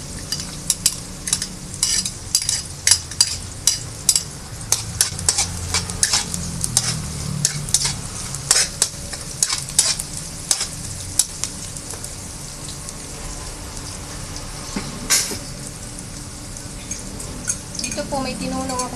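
Garlic dropped into a pan where onion is already frying, sizzling steadily with repeated stirring scrapes and clinks over a continuous hiss, in a home kitchen cooking fresh lumpia.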